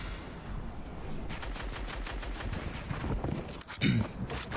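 Gunfire in a Fortnite match, rapid automatic bursts rattling steadily at moderate distance, with a sharper, louder burst near the end.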